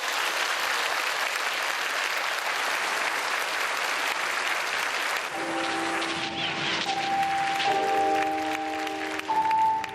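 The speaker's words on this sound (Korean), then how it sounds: "뜨거운 박수 부탁드립니다" Audience applause at a church charity concert by a World Vision children's choir, loud and steady clapping for about five seconds before sustained tones and notes come in beneath the continuing applause.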